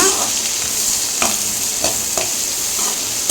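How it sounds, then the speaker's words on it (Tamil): Onion sautéing in oil in a pan for mutton dalcha, a loud steady sizzle broken by several sharp scraping stirs of a spoon. "ஒரு வெங்காயம் எடுத்துருக்கேன், அதை ஆட் பண்ணிக்கலாம். ஆனியன் கொஞ்சம் சாட் ஆகட்டோங்க."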